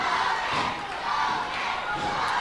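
A wrestling arena crowd at an armory roars and shouts in a continuous loud wall of cheering, swelling and dipping slightly throughout.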